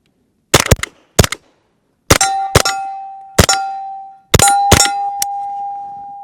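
Suppressed gunshots striking steel targets, heard as sharp close reports each followed by a bright metallic clang, some steel ringing on with a sustained tone, spaced in irregular pairs and singles across the stretch.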